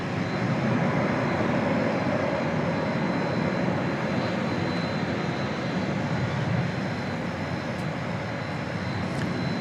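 Steady, broadband roar of jet aircraft engines at DFW airport with a Boeing 747 nearby, a continuous distant rumble heard at night with no speech.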